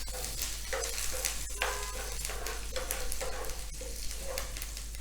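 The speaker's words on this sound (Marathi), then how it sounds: "त्यामध्ये कढीपत्ता थोडासे चिंच परतून घ्यायचे" Curry leaves and a little tamarind sautéing in a pan after lentils have been roasted: a soft, steady sizzle with faint scraping strokes of a spoon stirring against the pan, quiet and continuous.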